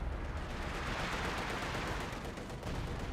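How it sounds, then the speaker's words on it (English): British officer artillery fires in a Company of Heroes 2 match, a dense, continuous wash of distant shelling and gunfire rolling on without pause at low volume. "We got some sort of artillery being brought in there, probably officer artillery"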